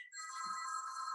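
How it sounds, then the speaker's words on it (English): A phone ringtone plays a steady, bright electronic tone that stays faint but clear throughout, with a brief soft low thump partway through. "So, sorry, that's my phone."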